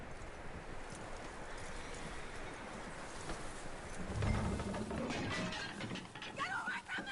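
Horse hooves clip-clop in Red Dead Redemption 2, a soft, steady beat under a wash of outdoor ambience, growing a little louder and nearer toward the end, with a faint voice-like tone near the close.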